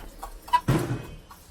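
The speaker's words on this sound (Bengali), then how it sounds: "এই যে মুরগি" A chicken gives a short burst of close clucks, a couple of soft notes followed by one louder squawk, heard alone in a quiet yard.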